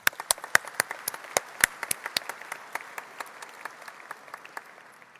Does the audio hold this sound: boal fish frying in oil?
no